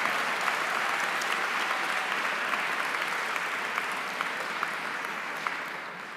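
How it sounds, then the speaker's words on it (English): Steady applause fills a gala hall, many hands clapping in a continuous even roar, somewhat distant and softening slightly toward the end. "give Rich Miller another round of applause for sharing that journey"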